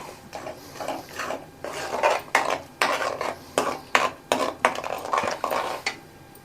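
Repeated scraping and clinking of a spoon or spatula against a metal pan while stirring butter chicken masala, a steady stirring rhythm with sharp knocks, close by and moderately loud.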